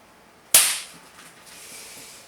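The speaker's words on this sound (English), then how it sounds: "Pellet goes straight into the barrel. Cock it all the way back, and that is ready to go." A pellet air gun from a new product round-up is cocked and fired indoors, giving one sharp, loud crack followed by a brief fading ring and quiet room tone.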